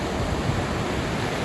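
Roaring Pacific Ocean surf at sunset near Ucluelet on the Pacific Rim coast fills the air as a loud, unbroken broadband rush, steady and close, with no voices.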